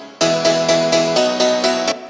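Layered synth piano chords from a remake, with no sidechain pumping, strike in a steady rhythm of about eight bright, loud stabs, each held at even volume.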